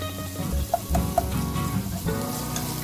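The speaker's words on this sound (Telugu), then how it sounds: "ఇప్పుడు దీనిలో కాస్తంత అల్లం వెల్లుల్లి ముద్ద వేసేసుకొని వేయించుకుందాం." Ginger-garlic paste sizzles in hot oil with chicken gizzards and liver, a steady close frying crackle broken by a few soft stirring knocks and pops, with no voices.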